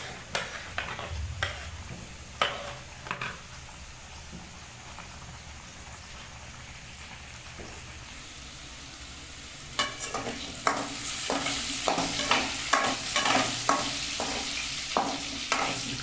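Potatoes fry in a pan on a home stove, with a steady sizzle and intermittent scraping stirs. The sizzle grows louder and denser partway through, with brisk clatter from the spatula toward the end.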